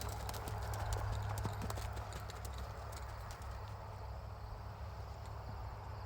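Horse hooves beating a steady, even rhythm while the horse is ridden in a gait, a continuous muffled clip-clop under low wind and rumble with no talking.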